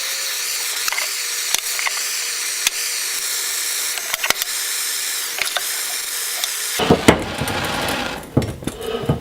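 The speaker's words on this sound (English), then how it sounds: "I'm going to burn it with this propane torch" A steady roaring hiss of a propane torch burning an old sledgehammer's wooden handle, broken by faint clicks and crackles, ending in a brief louder rustle.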